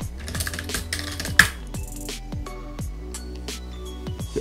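Keys clack on a computer keyboard as a Terraform command is entered, a quick irregular series of close, crisp clicks against a faint tonal background.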